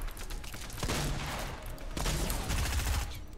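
Gunfire from the video game Fortnite: dense bursts of rapid shots in two clusters, loud and close, with mechanical clatter between them.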